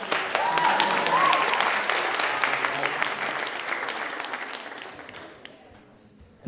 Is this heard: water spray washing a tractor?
no